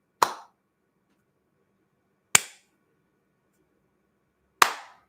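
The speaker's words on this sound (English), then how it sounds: "Let me give you a golf clap." Three slow, sharp, isolated claps spaced about two seconds apart, each a crisp snap with a short tail and silence in between, in the manner of a sarcastic golf clap.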